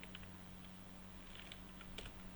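Faint, quick keystrokes from a computer keyboard tap out Python code, scattered light clicks in short bursts over a steady low hum, with no voice.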